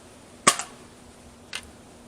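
A Nerf Element EX-6 blaster fires a dart with a sharp, close snap, and a second fainter crack follows about a second later against near-silence.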